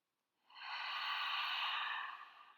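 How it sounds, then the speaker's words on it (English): A single long, deep breath drawn in during a guided meditation, a steady airy rush that rises, holds for about two seconds and fades, close and alone with no talk. "Take a deep breath in."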